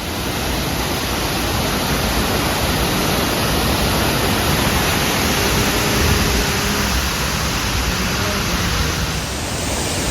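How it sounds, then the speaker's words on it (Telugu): Kothapalli waterfalls near Paderu roar in a dense, steady wash of falling water, loud and unbroken throughout with no voices. "Kothapalli water falls"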